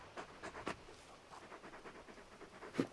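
A large wolf-like dog in Final Fantasy XVI pants with quick, soft, rhythmic breaths and a few faint whimpers up close, with no talking.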